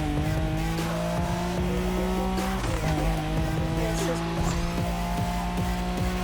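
A Nissan Skyline R34 races in a video game played on a racing wheel: a revving engine drone with gear shifts, brief tire squeals and skids, and someone talking over the game audio.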